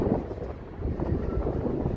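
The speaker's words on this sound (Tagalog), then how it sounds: "mahangin" Strong wind buffets the microphone with a constant low, rumbling roar, gusting slightly, outdoors at the fishing port of Killybegs, County Donegal, Ireland.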